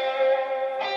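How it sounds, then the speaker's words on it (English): A sustained synth melody note in a TV music production rings with delay effect repetitions, echoed copies layering evenly before a brighter tone enters near the end. "there's the second repetition, the first repetition. And you can hear the delay."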